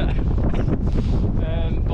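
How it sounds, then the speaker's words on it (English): Strong gusting wind buffets the microphone on an exposed mountain walk in the Lake District in horrendous weather, a loud continuous roar with rising and falling surges throughout. "try and get out this wind a bit, because I've just been battered all day"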